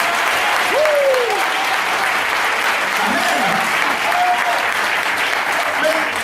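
A church congregation applauding in acclamation, a dense, steady roar of clapping throughout with cries and voices rising over it.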